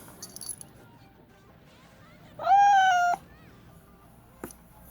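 A cat gives a single loud, drawn-out meow of about a second in the middle, with faint rustling and a small clink before and after.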